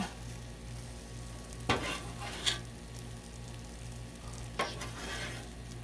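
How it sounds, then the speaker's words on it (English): Shrimp fried rice being stirred on a Blackstone griddle, a soft ongoing sizzle with a few sharp scrapes and clinks of a spatula against the hot surface, under a faint pulsing hum. "Give it a little stir."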